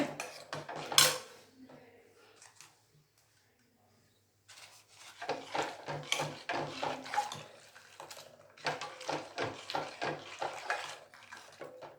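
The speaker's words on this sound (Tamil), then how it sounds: "நல்லா கிண்டி விடணும்" A metal spoon stirs milk in a pot for shahi tukda, giving bursts of scraping and clinking against the pot. A loud clank comes early, then a quiet gap, then longer stretches of rhythmic stirring scrapes.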